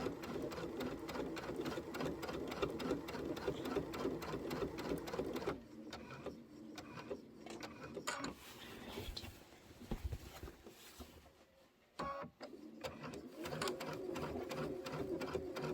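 A sewing machine stitches a quilted pillow in fast, steady mechanical bursts, pausing midway before the rapid needle clatter resumes close and clear.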